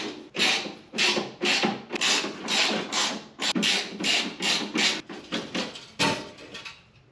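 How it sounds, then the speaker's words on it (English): A socket ratchet on a 10 mm fastener at the headlight bracket of a 1983 Toyota pickup, clicking rapidly in quick, steady back-and-forth strokes, close and crisp, with short pauses between runs. "This looks like a 10 mil fastener, so I'll go ahead and grab a socket and we'll get that zipped off"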